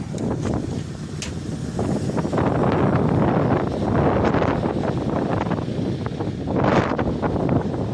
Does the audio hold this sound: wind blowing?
yes